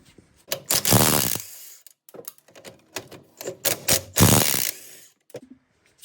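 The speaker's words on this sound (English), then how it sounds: "the last thing we have to do down here is remove these two 21mm nuts and bolts" A wrench ratchets on two 21mm strut nuts of a Nissan Maxima front suspension, giving loud bursts of rapid clicking separated by short pauses and lighter clinks.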